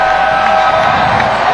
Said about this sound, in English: This crowd roaring with every play.